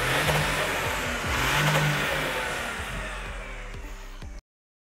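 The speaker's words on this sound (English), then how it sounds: "an 8-into-1 top-mounted exhaust manifold for a unique high-frequency sound." A Toyota V8 with an 8-into-1 top-mounted exhaust manifold revs hard in a sustained high-pitched roar that eases slightly before cutting off abruptly.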